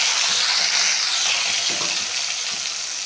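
Spice paste sizzling in hot oil with fenugreek seeds, cooking for a rohu fish curry; a steady, loud, close frying hiss runs throughout with faint stirring scrapes.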